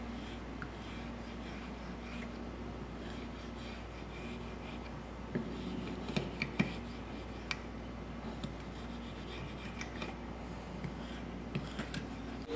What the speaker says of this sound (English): Now we're going to use a plastic scraper to remove the paint